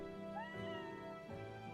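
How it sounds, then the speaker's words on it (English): A cat meows in the video game Kamidori Alchemy Meister, two short rising mews over soft game background music, clear and close with no talk. "The cat mews in answer."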